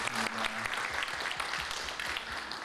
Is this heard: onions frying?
no